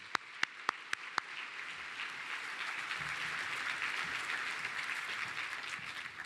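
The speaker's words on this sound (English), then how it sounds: "please join me in a round of applause for all of our wonderful researchers" Applause from an audience at a research meeting plenary, opening with a few sharp isolated claps before settling into a steady, moderate wash of clapping that continues evenly to the end.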